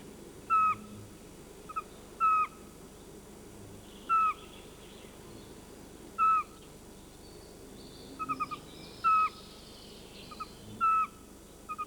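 Pygmy owl giving short, evenly spaced whistled calls in a European forest, about eight notes repeating every second or two, clear but moderately distant over a low woodland background.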